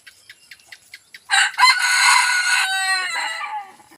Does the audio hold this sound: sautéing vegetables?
no